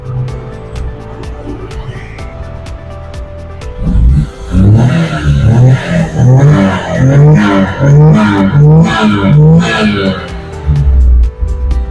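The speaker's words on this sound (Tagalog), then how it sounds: "So, pakita natin yung tambutso" A Suzuki Scrum mini truck engine idles, then revs hard through the exhaust in repeated throaty bursts, loud and close, with a voice briefly underneath.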